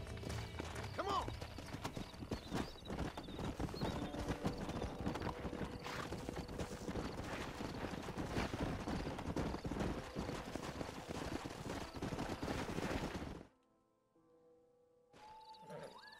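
Horse hooves in the Western video game Red Dead Redemption, a steady clip-clop of trotting hoofbeats that carries on loudly for about thirteen seconds, then drops away to quiet game ambience.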